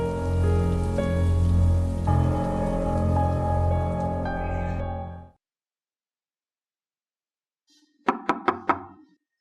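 Steady, dense rain falls for several seconds, then stops abruptly, and a few sharp knocks sound at a door after a brief silence.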